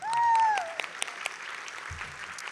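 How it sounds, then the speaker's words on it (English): Applause from an awards-gala audience, fairly faint and scattered, following a loud tone at the start, with light clapping continuing to the end. "Please give us some applause."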